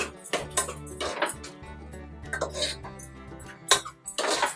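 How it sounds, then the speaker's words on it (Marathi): A spoon scrapes and clinks against a pan while a mix of coriander and cumin powder is stirred for a mushroom masala. The stirring is close and irregular, with a few louder knocks and a cough-like sound under a steady low hum. "आता हे चांगलं ढवळून घ्यायचंय"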